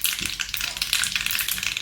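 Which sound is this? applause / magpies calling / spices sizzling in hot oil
spices sizzling in hot oil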